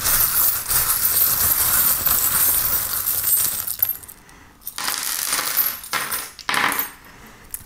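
Small metal tarot charms dropped onto a table, a dense run of clinking and jingling that breaks into a few separate bursts of chinks, near and fairly loud.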